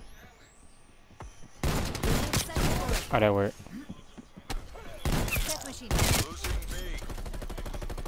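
Stoner 63 machine gun in Call of Duty Cold War firing in loud rapid bursts, several separate volleys of gunfire alternating with someone talking between and over them.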